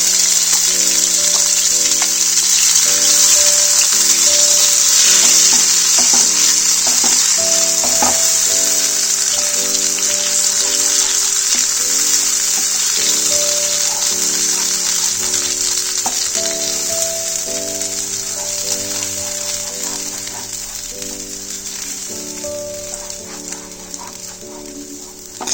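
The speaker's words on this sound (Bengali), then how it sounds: "এবার আমি মটরশুটিটা এর মধ্যে ফ্রাই করে নেব।" Ground green pea paste frying in about a tablespoon of oil on a preheated tawa for pea kachori, a loud, continuous close sizzle lasting throughout with occasional light spatula scrapes, gradually easing slightly toward the end.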